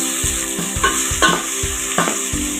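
Onions dropped into hot oil in a pan while making beef thokku, a close, loud, steady sizzle with rhythmic scraping strokes of a stirring spoon about every half second.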